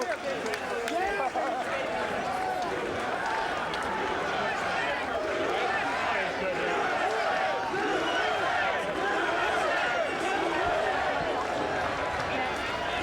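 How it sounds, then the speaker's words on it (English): An arena crowd at a boxing match roars and chants USA to celebrate Jeff Lacy's win over Syd Vanderpool, a dense, sustained wall of voices. A commentator talks over the noise. "The chants of USA from the crowd here celebrating Jeff Lacy's victory"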